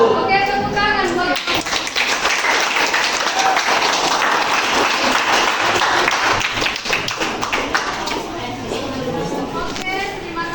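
Classroom applause from biology students at the close of an excretory system lesson, a dense steady patter of many hands lasting several seconds with chatter and voices mixed in throughout.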